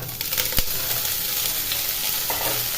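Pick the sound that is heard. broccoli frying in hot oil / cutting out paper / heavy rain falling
broccoli frying in hot oil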